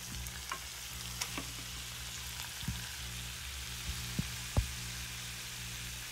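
Chicken and broccoli fry in butter in a pan, giving a steady soft sizzle with occasional sharp pops and crackles, quiet and close, with no one speaking.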